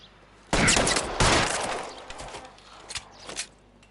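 Gunfire in a PS4 shooting game: two loud close bursts of rapid shots open the moment, followed by scattered fainter pops and clicks as the shooting dies away.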